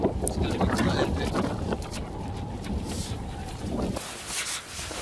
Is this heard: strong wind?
yes